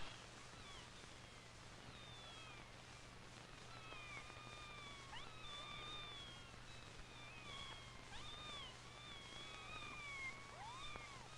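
Several kittens cry inside a box, their thin, rising and falling mews repeating steadily and overlapping, fairly faint over a constant low hum and hiss.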